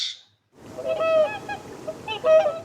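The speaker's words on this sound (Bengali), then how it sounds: "বয়শূন্য রতে রাজহাঁস রাজহাঁস নদীতে চলে" A goose honks nearby in two clear bursts of nasal calls, the first a run of several honks, the second shorter after a brief pause.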